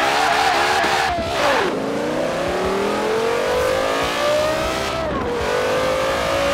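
A race car in Forza Horizon 4 launches and accelerates hard, its loud engine note climbing steeply through the gears with two clear shift drops, close and continuous with faint crowd noise beneath.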